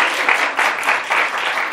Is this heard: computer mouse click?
no